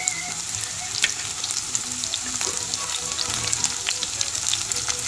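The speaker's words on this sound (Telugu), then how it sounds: "కొద్దిగా వేగుతున్నాయి చూడండి బాగా" Curry leaves frying and sizzling in hot oil while cooking Mysore papu curry, a steady, close crackling hiss with occasional sharper pops and faint stirring.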